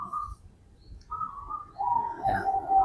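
Zebra dove (perkutut) cooing in short, soft, tonal calls separated by pauses, with a longer run of coos toward the end, heard alone and fairly close.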